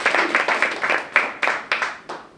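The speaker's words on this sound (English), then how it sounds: "So just round of applause for that" Audience applause at a screening and environmental justice panel, a burst of many hands clapping that swells in waves and then tapers off, moderately loud in a hall with no talk over it.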